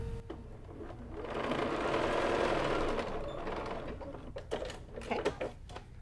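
Sewing machine stitching down a fabric tote bag handle, a soft steady whirring run that swells in the middle, followed by light clicks and handling noises.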